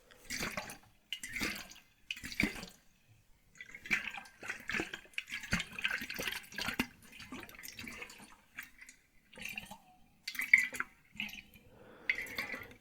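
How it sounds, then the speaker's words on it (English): Muffled liquid sloshes inside an aluminum bottle in a run of soft, irregular bursts with short pauses between them, close and fairly quiet, with no talking. "Do you like the muffled liquid sounds that the aluminum bottle makes?"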